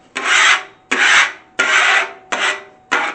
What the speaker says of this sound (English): First they say just scrape it